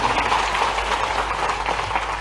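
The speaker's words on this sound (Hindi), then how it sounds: "ताली बजा" Audience applause at an indoor cooperative youth dialogue event in Bhopal, a dense, steady patter of many hands clapping together for about two seconds.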